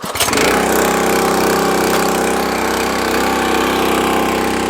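A small engine with a new Huayi carburetor and the choke on fires up at once and runs at a loud, steady, rough roar, close by.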